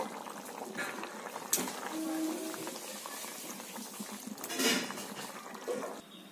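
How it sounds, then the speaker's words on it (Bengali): Prawn and taro curry gravy bubbles in a pot at a steady simmer, a continuous moderate burble with brief utensil clatters around the middle and near the end. "ঝোলটাকে একটু ফুটতে দেব"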